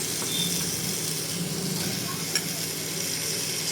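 Chicken frying in a pan with spice masala, a constant moderate sizzle and hiss with light stirring, steady and close, a small knock near the end.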